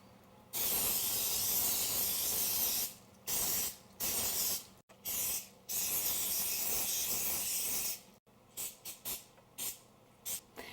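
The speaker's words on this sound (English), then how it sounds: "spray them liberally with some non-stick spray, sometimes with flour, that's always good, called baking spray" Non-stick baking spray hissed onto egg-shaped baking moulds in bursts: one long spray, then several shorter puffs and a quick run of short spritzes, close and fairly quiet.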